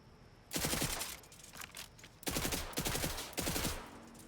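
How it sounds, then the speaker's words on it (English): Automatic gunfire in the video game Borderlands 3, loud rapid bursts of shots in several separate strings with short pauses between. "Why you shooting?"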